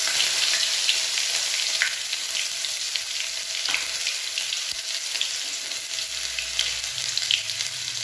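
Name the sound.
frying and stirring five-spice, dried chilli and ginger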